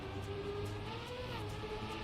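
Race car engine from the Trackmania racing game, droning steadily at high revs with slight pitch shifts as the car drifts through a turn, faint and continuous with no talk.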